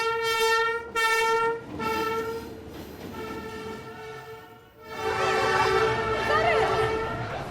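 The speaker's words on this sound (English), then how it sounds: "it's actually coming. That's the train." A train on a street-running line in Hanoi passes loudly, sounding two strong horn blasts up close before the rumble of the cars swells and rolls by, with excited voices reacting over it.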